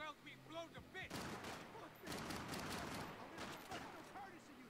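Gunfire in Max Payne 3, dense bursts of rapid shots crackling loudly in two sustained volleys after a short lead-in of other game sounds.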